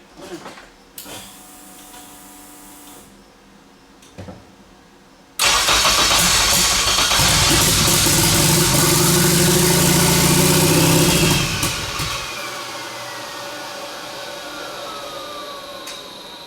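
A 600-horsepower all-wheel-drive turbo Honda Civic engine cranks and catches, then roars loudly for several seconds before dropping back to a rough, uneven idle, not running on all cylinders.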